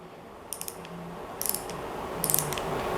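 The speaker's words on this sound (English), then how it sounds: "These two have a ratchet action," A vintage Millers Falls hand tool working its ratchet action, three short bursts of crisp metallic clicking spaced about a second apart, close and clear over a faint background hum.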